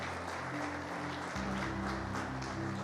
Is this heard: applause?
yes